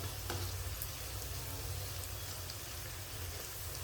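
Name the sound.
cauliflower frying in oil for gobi manchurian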